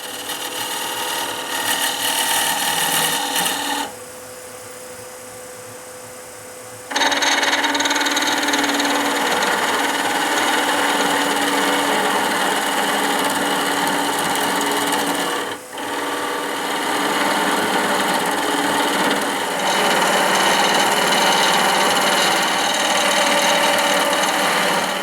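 A wood lathe turns a spurtle handle, giving a steady, loud whirring with gritty cutting scrape that runs almost throughout, easing to a quieter hum for a few seconds early on and dipping briefly later.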